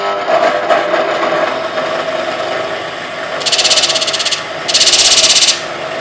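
Bench grinding wheel squaring and removing a chip from the end of a plane blade, two bursts of bright grinding a second or so each, riding over a steady motor hum.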